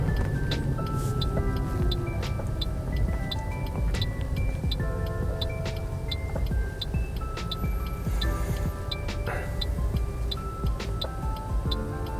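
A car's turn signal ticks steadily in a regular rhythm inside the cabin while waiting to turn left at traffic lights, the clicks heard clearly above the low engine and road rumble.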